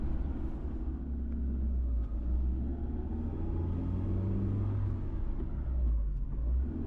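A vehicle creeps slowly along the Megamalai mountain road in Theni District, its engine a steady, low rumble heard from inside, with no voices.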